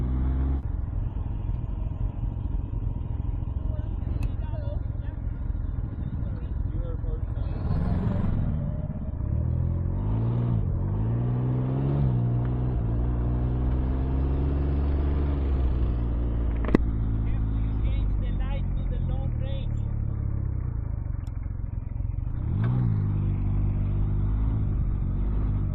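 A Can-Am Ryker 900 three-wheeler's engine drones low and steady while riding in Gran Canaria, Spain, a continuous rumble with wind noise beneath a person talking through most of the ride.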